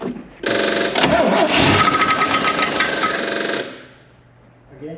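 A 55-year-old Land Rover 109 Series 2A, left sitting for 15 years, cranks and catches into a loud, rough-running engine near the microphone, then cuts out and trails into quiet before a brief noise at the end.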